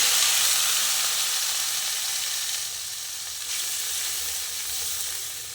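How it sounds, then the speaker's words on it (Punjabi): Ginger, garlic and onion paste with cumin fries in a pan for a potato and green bean curry, making a loud, continuous hissing sizzle that eases slightly over several seconds. "ਆਪਾਂ ਇਹਦੇ ਵਿੱਚ ਅਦਰਕ ਲਸਣ ਪਿਆਜ਼ ਦਾ ਪੇਸਟ ਪਾ ਦਾਂਗੇ"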